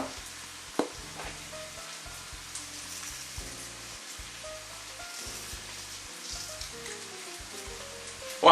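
Food sizzling in a frying pan before sausage is added, a steady close crackle and hiss with occasional pops and a light stir, no talking.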